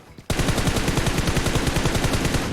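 Rapid automatic M416 rifle fire in a video game: a loud, continuous burst of evenly spaced shots that starts abruptly after a brief quiet moment and runs without pause.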